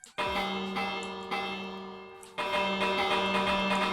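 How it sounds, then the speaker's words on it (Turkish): A bell in Minecraft RTX rings out in repeated tonal strikes, each note sustaining and overlapping the next, with a brief dip before a louder strike near the end. "Oha oha köylüler kaçıyor mu çan sesinde?"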